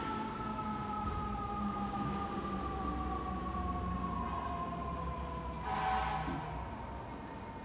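Fire truck siren wailing in the distance, a sustained tone slowly sliding downward over steady background rumble, swelling briefly louder near the end, with no voices.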